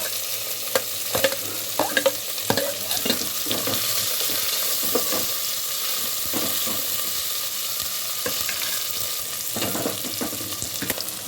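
Onions sizzle and fry in hot oil for a tomato gongura curry, with a spoon or spatula scraping and stirring the pan in irregular bursts over a steady crackle.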